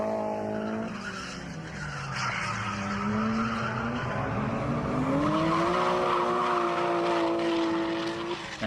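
A Toyota JZX110 with a big IHI turbo drifts at Nikko Circuit: a loud, continuous engine roar with rising and falling revs, overlaid by a sustained high tyre squeal through the first half, and no voices.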